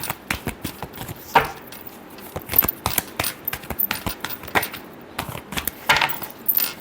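Tarot cards are shuffled by hand close by, giving irregular crisp flicks, taps and papery snaps in quick clusters with short pauses between them.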